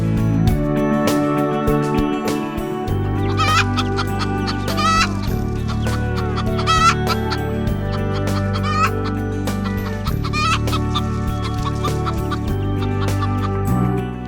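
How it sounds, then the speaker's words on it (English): Chickens cluck in a string of short, close, repeated calls over a steady musical background, with no talking heard. "chicken."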